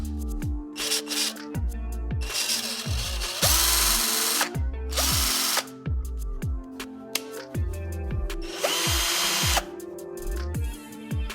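Snap Fresh cordless drill spinning up in repeated short bursts, each with a rising and falling motor whine and ratcheting clutch clicks between runs, close and loud with no talking.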